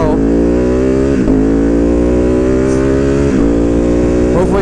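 Motorcycle with a VanDemon exhaust running steadily at a loud, constant drone, with brief dips in engine note.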